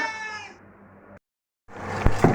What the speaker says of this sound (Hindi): तो हम जब तक इस बिल्ली को भगाते हैं